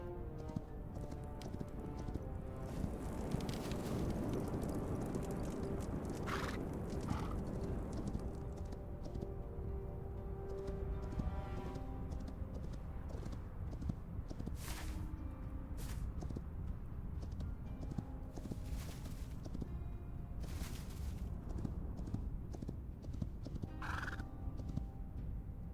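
Horses in the video game Hytale, with continuous clip-clopping hooves and a few neighs and whinnies heard alone over a steady ambient bed.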